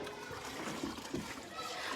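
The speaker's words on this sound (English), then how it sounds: "Mary is pouring the water through the sieve" Preschool children pour water through a sieve, producing soft splashing and trickling with a couple of small splats, close by, while voices talk over the scene.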